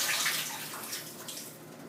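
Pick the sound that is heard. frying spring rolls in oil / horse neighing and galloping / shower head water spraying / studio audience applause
shower head water spraying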